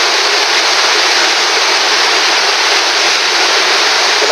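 Strong waves and a rushing water current during a typhoon: a steady, loud broadband roar of churning water, continuous and close, with no talk.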